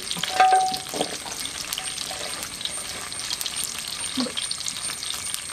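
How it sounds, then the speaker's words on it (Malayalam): Whole peeled onions dropped into hot coconut oil for kappa biryani, a dense steady sizzle with a few stirring knocks and clatters early on, close and unaccompanied by speech. "എണ്ണ നല്ലതായിട്ട് ചൂടായിട്ടുണ്ട്. നമുക്ക് ഉള്ളി കുളന്നിട്ടൊന്നുമില്ല, പൊളിച്ച് അതുപോലെ തന്നെ ഇടുക."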